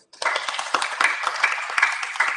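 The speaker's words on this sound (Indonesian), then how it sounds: "Berikan tepuk tangan." A church congregation at a GKSI Glory to Glories service in Batam breaks into loud, close applause with mixed cheering, a dense burst of clapping that starts abruptly and continues.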